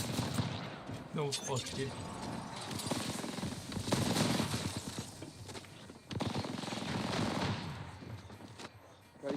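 Rapid automatic gunfire in the Apex Legends battle royale game rattles in dense bursts throughout, close and loud, while players talk and shout over it.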